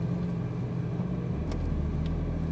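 Ferrari 458 Italia rolling slowly away in first gear: a steady low engine rumble at idle-like revs, close and fairly loud, with a faint brief higher whine partway through and no talking.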